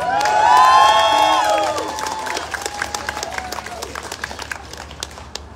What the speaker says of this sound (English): Can you make some noise? Clap your hands.